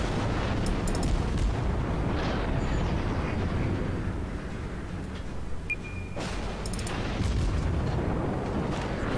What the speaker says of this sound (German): jetzt schießen natürlich beide auf mich